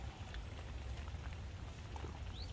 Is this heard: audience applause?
no